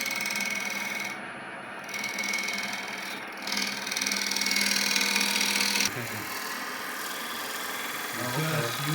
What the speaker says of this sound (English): it's basically like a skew cut